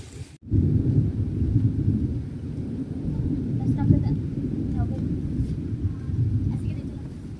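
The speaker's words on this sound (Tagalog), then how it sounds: "Kidlat, kulog mga palangga." Rumbling thunder with rain in the rural Philippines, a deep rolling low roar that swells after a brief cut and keeps grumbling steadily for several seconds, with faint voices talking underneath.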